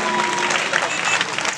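A congregation at a church service applauding and cheering for Jesus Christ, dense continuous clapping and crowd noise filling the whole moment, loud and close.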